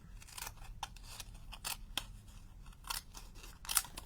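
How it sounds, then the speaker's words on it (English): Scissors cutting card stock for card making, a series of crisp close snips and crunches at irregular intervals, quiet and alone without speech. "I'm just going to cut here, so I've got enough to"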